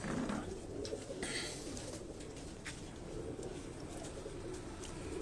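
Pigeons coo continuously on a Karachi rooftop loft of breeder birds, a steady low murmur of overlapping calls with a few faint chirps, fairly close and with no talk.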